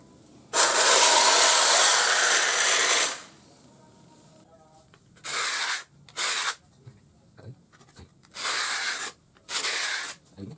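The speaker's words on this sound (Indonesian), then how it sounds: "kita harus meratakannya terlebih dahulu menggunakan kikir atau menggunakan diamond plate" A file rasps across the teeth of a manual rip hand saw to flatten them: one long continuous stroke, then a series of shorter close, loud scraping strokes separated by brief pauses.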